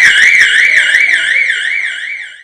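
A loud, wailing electronic alarm sounds during a hospital disaster evacuation drill, its pitch sweeping up and down steadily on its own before fading slightly at the end.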